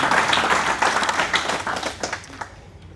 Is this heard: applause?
yes